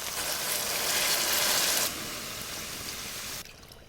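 Water poured into a pot of browned meat and vegetables to make broth for Italian wedding soup, a steady broad rushing pour for about two seconds that then thins to a quieter trickle before stopping.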